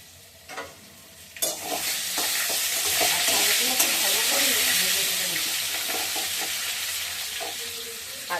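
Fenugreek seeds and a bay leaf tempering in hot oil with potatoes, a loud steady sizzle that swells after a few opening clatters and holds for several seconds, with occasional stirring knocks of the spoon against the pan.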